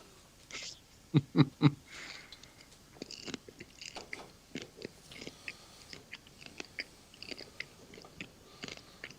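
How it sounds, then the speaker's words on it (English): Popcorn crunched right up against the microphone during a movie night, with a burst of sharp bites early on followed by intermittent softer chewing and crunches. "The crunching right in the microphone"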